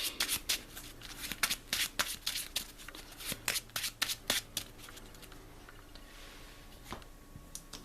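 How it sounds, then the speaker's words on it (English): A deck of cards for the Marvel Champions card game is shuffled in quick riffling bursts, crisp rapid flutters repeating several times up close, then the clicks trail off into quiet handling. "Shuffle my deck."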